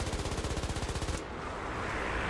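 A War Thunder machine gun fires a fast, even stream of rounds, loud and close, then stops abruptly, leaving a hissing wash of engine and battle noise.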